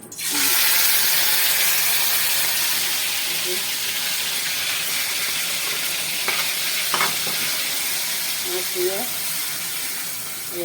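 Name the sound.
chili being added to a frying pan, sizzling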